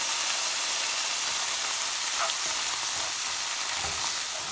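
Shepherd's pie filling sizzles loudly in a hot pan as Worcestershire sauce goes in, giving a steady, bright hiss of frying with faint clicks and spatters throughout.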